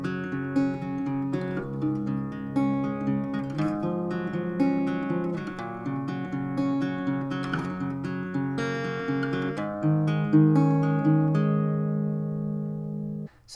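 An acoustic-style guitar strums and picks the chord changes of the second chorus of a song, steady and close, with ringing chords, no voice, ending abruptly.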